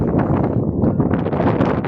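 Steady wind buffets the microphone in a dense, rumbling roar that continues without a break for the whole stretch, on a ferry at sea.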